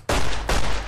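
A sawed-off shotgun fires in Fallout New Vegas: two loud, booming blasts about half a second apart, each filling the clip with a dense, roaring burst, with no talk.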